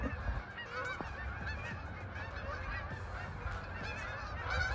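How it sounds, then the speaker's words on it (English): Geese in a migrating flock honk steadily overhead, many overlapping calls at moderate distance over a low background rumble, with no talking. "Look at all those birds on that side."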